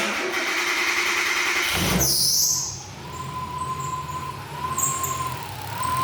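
A Honda K-series engine swapped into a Nissan S13 hatch cranks with a loud whine, then falls into an uneven, lower running hum with a thin high tone as it falters toward a stall.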